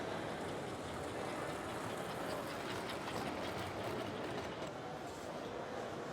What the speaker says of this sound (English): This train here is moving pretty good.